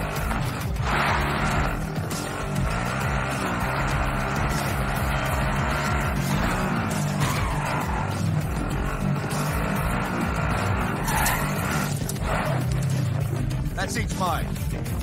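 A car being driven in Call of Duty Modern Warfare 2019 gives a steady low engine rumble and road noise that run throughout, under almost constant talking.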